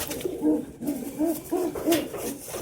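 Tippler pigeons in a loft give soft, low cooing calls in a rhythmic series of about six rounded notes, near and moderately loud with no talking.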